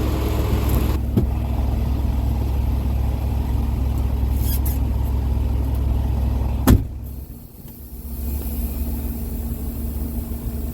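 A tractor-trailer truck reverses very slowly during offset backing, its engine droning steadily at low idle with a sharp click near the middle, after which the rumble briefly softens before settling again.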